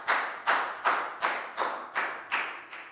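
A classroom of Year 4 children claps together in a round of applause, about seven loud rhythmic bursts of clapping close by, with no talking.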